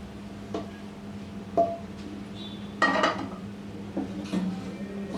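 A spoon stirs cooked rice together with fried eggs and egg masala in a metal pot, making scattered scraping clinks and clatters at irregular moments over a steady low hum.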